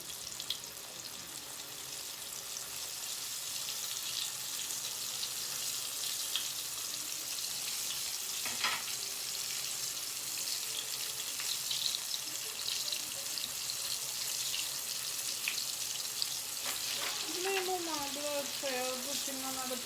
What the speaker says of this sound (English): So I'm just gonna put it in my hot oil.